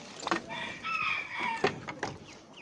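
Chickens and roosters in a coop cluck and call in a run of short, close squawks, with one longer crow in the middle, loud and clear with no talk over them.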